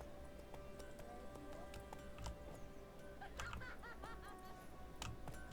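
Horse hooves clip-clop at a steady riding pace in The Witcher 3, sounding close beneath a continuous bed of game ambience and music with scattered small ticks.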